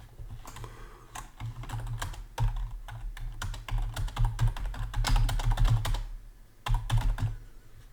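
Continuous typing on a computer keyboard, close and fairly loud, with irregular bursts of keystrokes and brief pauses, no talking.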